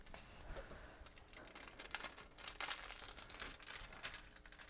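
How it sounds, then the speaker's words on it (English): Washi tape being peeled off a foiled wedding card, a run of dry crinkling, ripping tears at close range, quiet with no talking. "I'm going to go ahead and take my washi tape off."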